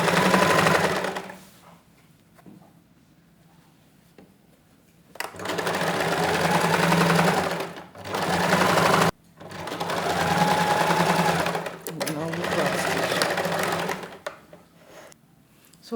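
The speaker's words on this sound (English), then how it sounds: "Then I'll take to the sewing machine and just sew 1/4 inch or 1/2 inch." Sewing machine stitching together pinned trouser pieces with short seams, running in several loud bursts of steady whirring separated by pauses, with a few quiet handling noises in the gaps.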